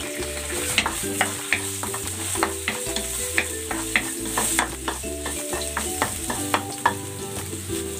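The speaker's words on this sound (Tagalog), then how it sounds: "Gigisa ko na dito yung luya" Ginger being sautéed in a hot pan while making monggo, a constant sizzle with frequent clicking spoon strokes against the pan, close and with no voices over it.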